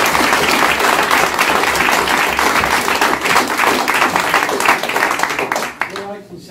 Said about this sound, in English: So if we're giving rounds of applause